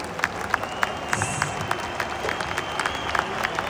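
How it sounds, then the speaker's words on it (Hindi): Audience applause at a Safe Shop Associates event with Sri Sri Ravi Shankar, a dense crowd clapping steadily with sharp individual claps standing out, some voices mixed in. "तालियों की गड़गड़ाहट तो बनती है।"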